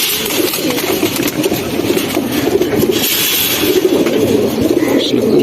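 Pigeons of the Silver and Beji varieties coo steadily close by as a bird is handled, with dense rustling and scraping from the handling under the calls.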